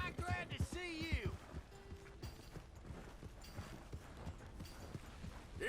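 Horse hooves clip-clop on the ground in Red Dead Redemption 2, a light rhythmic patter of steps under game voices and a brief whinny-like tone at the start.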